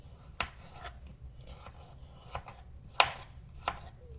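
A peeled papaya is cut into small spoon-sized pieces on a board, giving a handful of quiet, sharp knife chops spaced irregularly over a faint background.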